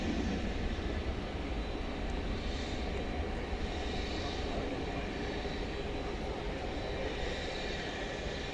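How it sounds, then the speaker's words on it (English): A Boeing 737-800 jet airliner passes at night at Dallas Fort Worth airport, a steady, moderately distant engine roar that holds evenly throughout with no voices. "Going left to right on your screen. It's a 737-800"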